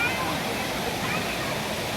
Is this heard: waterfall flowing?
yes